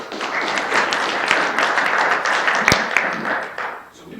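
Audience at a city council meeting claps in a steady burst of applause for an improv troupe, moderately loud with scattered sharp claps, tapering off near the end.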